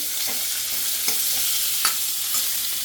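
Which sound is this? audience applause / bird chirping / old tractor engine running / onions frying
onions frying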